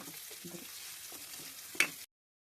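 Paneer frying in a pan, a faint, steady sizzle with light stirring scrapes and one sharp clink of utensil on metal near the end before it cuts off.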